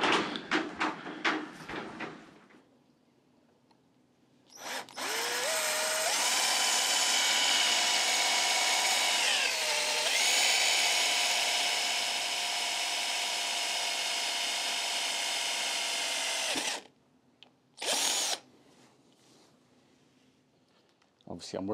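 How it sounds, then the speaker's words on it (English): A power drill whines steadily for about twelve seconds, pitch dipping briefly under load, with brief clicks and speech before and a short burst after, drilling a stud hole while changing the handlebars on a Royal Enfield Meteor 350. "So I just need to drill a hole"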